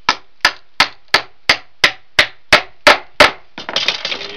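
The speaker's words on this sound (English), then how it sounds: "Use a hammer, get them going." Nine sharp, evenly spaced hammer blows ring out close by as bolts are driven through the wood of a picnic table, followed by a brief rattling scrape.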